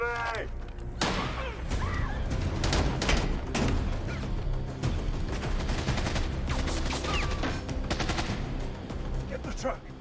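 Film shootout gunfire: rapid bursts of shots and sharp cracks, loud and close, fired in dense overlapping volleys across the whole stretch with brief voices mixed in.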